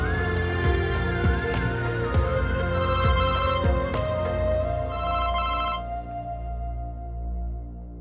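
A telephone rings repeatedly in a Pakistani TV drama scene, a bright electronic ringtone pattern with steady repeated bursts over a background music bed, fairly loud, the ringing stopping about six seconds in; no one talks.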